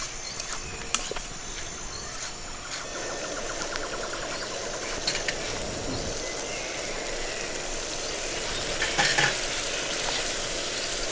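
Masala with cashew paste sautéing in a pan for chhanar dalna, a steady broadband sizzle with occasional faint scrapes of stirring, close and continuous, with no talking.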